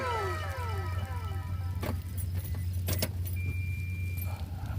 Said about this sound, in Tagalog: Start ko itong sasakyan.